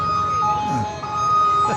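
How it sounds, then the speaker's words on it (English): Emergency vehicle siren sounding steadily through a Christmas parade in Charleston, a sustained wailing tone under crowd noise and nearby talking. "I'd be okay without the sirens, Mark."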